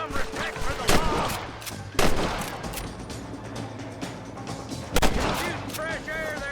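Gunfire in the Red Dead Redemption video game during a shootout at a house: repeated loud gunshots, several sharp reports and a rapid burst, mixed with game music and a voice speaking.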